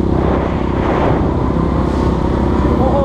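Steady engine rumble from several motorcycles riding along in a group, a continuous low drone with no clear breaks, close by.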